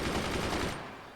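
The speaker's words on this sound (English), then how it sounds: "Their mortars are starting to go up" Mortars firing in the game Forts, a rapid burst of repeated booming shots close together that fades out over about a second.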